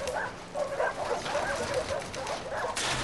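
Abby's pet dog in the video game The Last of Us Part II gives short whimpering barks and yips, close but fairly quiet, over soft background sound.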